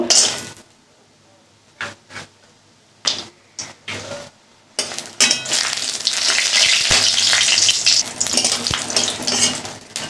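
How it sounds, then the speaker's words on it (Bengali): Bori lentil dumplings fry in hot white oil in a kadai: a few sharp clatters and brief bursts of sizzle first, then a loud, steady crackling sizzle close by for the rest. "আমি কটা বড়ি ভেজে নেব"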